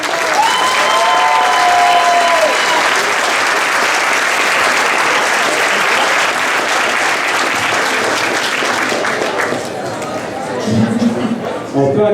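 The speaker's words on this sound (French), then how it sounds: "On peut encore applaudir ces personnes-là," Audience applause fills a fiftieth-anniversary celebration at a school, loud and steady for about ten seconds before thinning out, with a brief voice or tone near the start.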